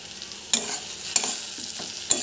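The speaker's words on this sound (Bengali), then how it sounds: "সব কিছুকে আবারও বেশ ভালোভাবে মিক্স করে নিচ্ছি।" Spoon stirring shrimp gravy with spices and ripe tomatoes in a pan: three distinct scraping strokes over a low, close sizzle.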